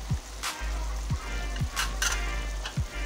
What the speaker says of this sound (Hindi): अब इसको अच्छी तरह मसाले को भूनेंगे।